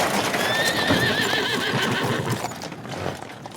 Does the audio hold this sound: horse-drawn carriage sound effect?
yes